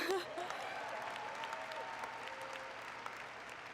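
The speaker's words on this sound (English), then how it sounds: "you guys get a round of applause, let's do it." A commencement crowd applauds the graduating class of 2019 at an undergraduate ceremony, dense continuous clapping that holds steady, with faint voices and a brief whistle-like cheer near the start.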